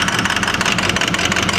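A misfiring diesel engine runs close and loud, a continuous rough rumble with an uneven pulsing beat.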